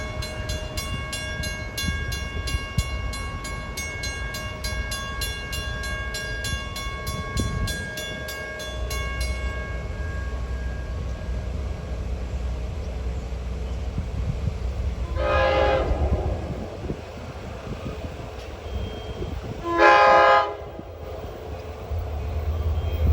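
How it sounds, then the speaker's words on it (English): A Babylon-Montauk passenger train on the Montauk Branch runs past the Cherry Street crossing in Sayville with a steady rumble. A tonal whistle-like horn sounds early on, then two loud horn blasts come later, the second close and strong. "Babylon-Montauk train."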